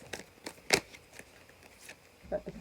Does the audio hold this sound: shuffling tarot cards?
yes